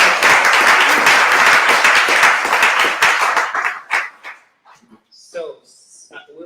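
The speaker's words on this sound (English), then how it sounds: "I want to give a round of applause for the General Assembly team that's over there" A room applauds the General Assembly venue team at a UX design meetup, with dense, loud clapping that fades out after about four seconds into scattered voices and quiet.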